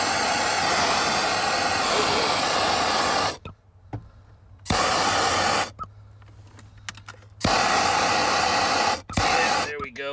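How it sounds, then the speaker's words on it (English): MAP gas torch roaring in loud, steady hissing bursts as it heats heat shrink tubing on a Jeep repair, cutting off between blasts. "there's just no replacement for a good map gas torch here"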